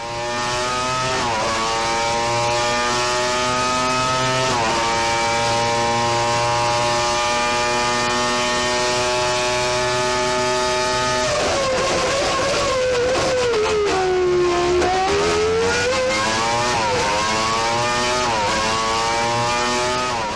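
A 1994 Renault V10 Formula 1 engine on a test bench, running through the high-rev pattern of a Hockenheim qualifying lap: a loud, continuous shriek that climbs, dips sharply mid-run and then surges back up.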